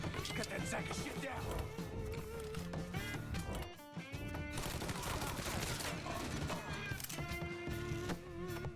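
Bursts of gunfire from the Mafia III video game crackle in rapid volleys, with shots layered over dense game music and effects, and a voice in the mix.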